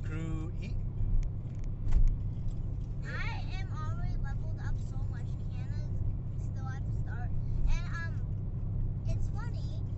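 A self-driving car moves along, heard from inside as a steady low road hum beneath frequent talking.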